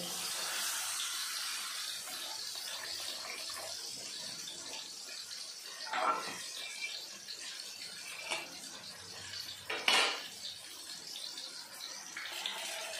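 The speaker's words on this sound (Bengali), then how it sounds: "এখন দিয়ে দেবো পরিমাণ মতো জল।" Water pours into a rui posto curry in a cooking pot, a soft continuous rushing splash with a few louder gushes and clinks around six and ten seconds.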